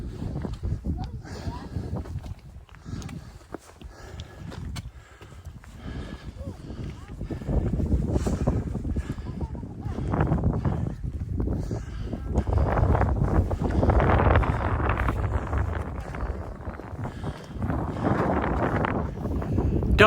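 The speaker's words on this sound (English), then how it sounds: "Don't know if you can hear me in this wind" Strong wind buffets the microphone during a mountain hike near Haystacks and Innominate Tarn in the Lake District, a continuous loud rumbling roar that swells through the second half, with a voice faintly under it.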